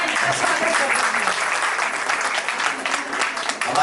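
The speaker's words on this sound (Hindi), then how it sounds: "एक बार तालियों के द्वारा इनका स्वागत करते हैं।" Audience applause welcoming guests at a Jain temple event, dense steady clapping from a crowd filling the whole stretch without pause.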